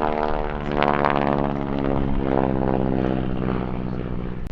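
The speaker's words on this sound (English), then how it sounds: "That's a 600 horsepower Pratt & Whitney 9-cylinder radial engine that powers it." A T-6 Texan flying at the 2012 Andrews AFB airshow, driven by a 600 horsepower Pratt & Whitney nine-cylinder radial engine; a loud, steady, throbbing propeller drone holds throughout with no speech.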